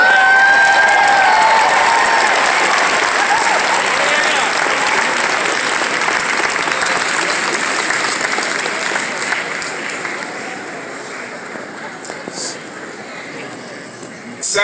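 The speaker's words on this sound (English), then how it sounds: "Let's give a round of applause to Representative J.A." A large state party convention crowd applauds and cheers loudly and steadily, the dense clapping and shouting filling the hall and slowly tapering toward the end.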